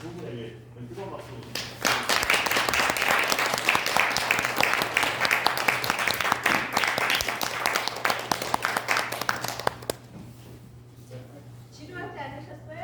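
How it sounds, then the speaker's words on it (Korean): A lecture audience bursts into warm applause for the speaker and invited guests, a full sustained roar of clapping that swells quickly, holds for several seconds, then tapers off, with voices murmuring before and after. "후손 두 분에게 뜨거운 박수"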